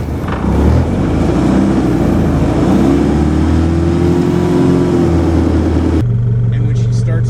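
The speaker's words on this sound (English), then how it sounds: "working your throttle, you give it a burst." A boat engine with a new transmission gets a burst of throttle, a loud steady low rumble that swells and holds close by before dropping off sharply near the end.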